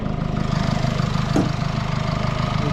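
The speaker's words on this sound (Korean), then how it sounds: "GLE 300D 확실히 지금 시동을 거니까 바깥에서 이런 디젤차 소리가 나죠" A 2020 Mercedes-Benz GLE 300 d 4MATIC with an inline-four diesel idles, heard from outside the car as a steady, loud, close diesel clatter with a slight shake and one faint click partway through.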